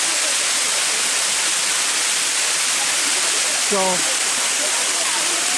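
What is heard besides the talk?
waterfall at Eternal Flame Falls, Chestnut Ridge Park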